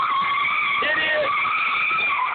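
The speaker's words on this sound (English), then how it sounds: "I see the tires froze and locked up." A tow truck's tires, locked up in four-wheel drive, skidding and squealing in a continuous loud screech with a brief pitch dip, up close.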